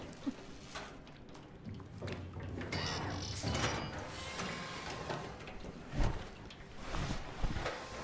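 Whirring, clicking mechanical noises from a device in the video game SOMA, irregular sliding and grinding with a few sharp knocks, fairly quiet and heard alone.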